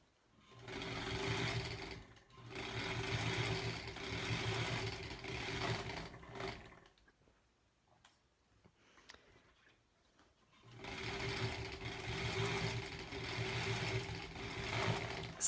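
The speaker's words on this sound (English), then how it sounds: "I can hear it kerchunk along a little bit." A home sewing machine stitches through a quilt-as-you-go sampler block in two long steady runs, a mechanical chunking hum that stops for a few quiet seconds in between.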